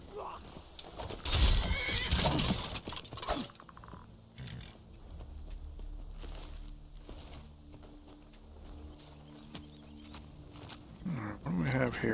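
Horse whinnying loudly in the game Skyrim, followed by quieter hoof and footstep sounds over a steady droning game backdrop.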